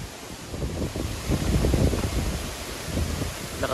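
Strong gusty wind blowing through leaves outdoors in Nyugan, with no rain, a steady broadband roar that swells in the middle and carries low rumbling buffets against the microphone.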